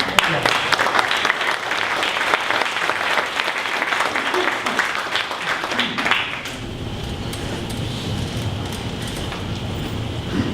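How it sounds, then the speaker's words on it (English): An audience at a startup pitch event breaks into a sustained round of applause that fades after about six seconds into a quieter room hum with faint background chatter. "Give a round of applause for ROAM."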